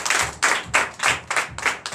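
A church congregation at a Sunday service in Benin claps together in a rhythmic, fairly even pattern of bursts, close and moderately loud, with no talking over it.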